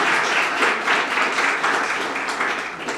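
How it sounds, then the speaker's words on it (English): An audience at a literary review celebration reading claps for the readers, a loud, close, continuous patter of many hands with slight swells, fading a little toward the end. "let's give another round of applause for all the wonderful readers"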